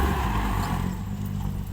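A farm tractor engine labours steadily as it shoves a dirt pile at a dump-truck work site, a continuous loud low drone with clattering throughout.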